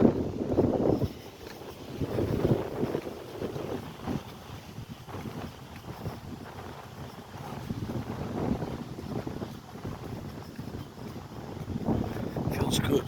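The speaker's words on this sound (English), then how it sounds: "really cold and windy." Cold wind gusting by a railway bridge, buffeting the microphone in irregular rushing surges that rise and fall across the whole stretch.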